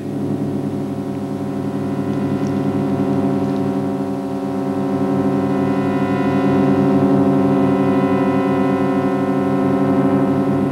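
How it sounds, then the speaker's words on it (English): A steady, droning electronic hum of sonified spacecraft data from flying through Halley's Comet's tail, with layered tonal harmonics and a faint pulsing texture, sustained and even throughout without any voices. "this is the sound of what it's like to fly through a comet's tail"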